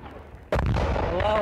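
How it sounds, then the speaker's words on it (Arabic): Artillery and rocket shelling in the Syrian buffer zone: a sudden loud blast after a quieter rumble, followed by a sustained roaring boom and reverberation. "الصخب القادم من المنطقة العازلة تمثل في دوي الاستهدافات بالقصف الصاروخي والمدفعي"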